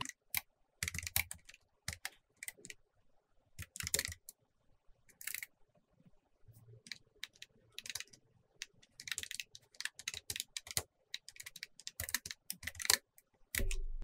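Computer keyboard keys clatter in quick irregular bursts while someone types JavaScript code, the close clicks separated by short pauses with no voices present.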